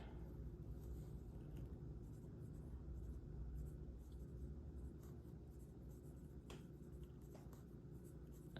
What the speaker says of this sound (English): I'm just writing numbers because I know I'm gonna put 6 things in later on.